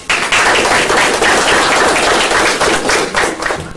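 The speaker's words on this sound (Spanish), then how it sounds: "Demos un fuerte aplauso" Loud, dense applause from a crowd at a university lecture, many hands clapping continuously at close range.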